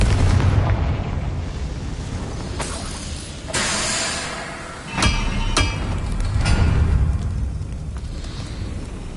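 A Confringo spell goes off in the video game Hogwarts Legacy as a series of heavy booming blasts and sharp cracks over a loud, rumbling battle din, with no talk.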